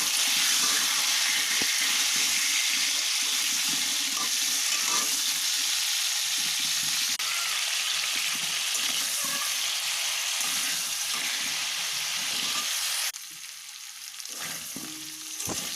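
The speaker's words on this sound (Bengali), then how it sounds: "প্রথমে আলুটা ভালো করে ভেজে নেব" Potato pieces frying in a pan with salt and turmeric give off a steady, dense sizzle that runs nearly throughout, then turns a little quieter and thinner near the end.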